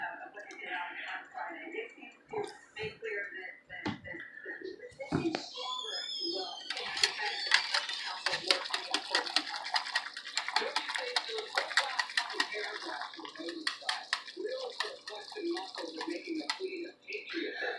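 Flour-and-water slurry goes into simmering hamburger steak gravy in a pan, giving a steady, close bubbling and crackling that grows busier midway, with a person talking at the start.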